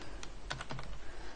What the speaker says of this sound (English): Typing standing up is difficult.